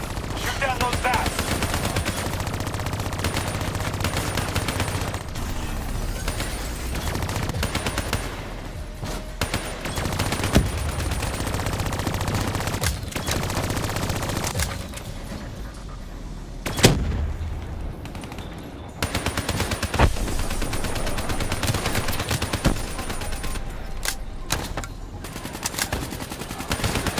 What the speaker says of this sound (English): Shoot down those bats.